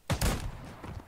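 Gunfire in the tactical shooter Ground Branch: a sharp, heavy burst of shots with a booming low-end thump, followed by a short rumbling tail that fades within a second.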